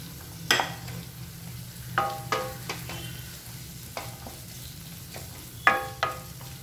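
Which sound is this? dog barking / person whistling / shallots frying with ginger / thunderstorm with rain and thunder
shallots frying with ginger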